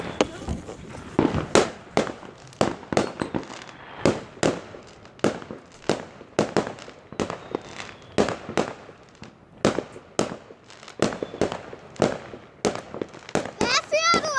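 New Year's fireworks going off in a rapid series of sharp bangs and crackles, loud and close, with whistling rockets near the end and a voice briefly audible in between.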